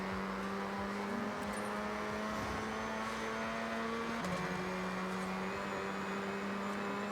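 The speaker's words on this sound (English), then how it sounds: "listen to that rotary engine" A rotary-engine car in the video game Forza Horizon 6 revs and holds a steady, buzzing engine note, fairly faint, with the pitch briefly dipping and shifting as it changes, and no talking.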